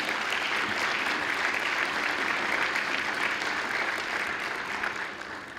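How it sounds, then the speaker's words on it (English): An audience at a university alumni hall of fame induction ceremony breaks into thick, continuous applause that stays full for about five seconds before tapering slightly. "Let's give them all a round of applause for helping make this possible."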